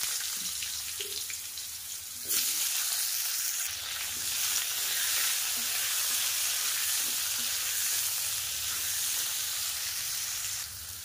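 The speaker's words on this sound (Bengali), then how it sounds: "এবার আলুগুলোকে ভাজা করে নেব।" Potatoes frying in hot oil in a wok, a steady loud sizzle with crackling bursts throughout, no talking.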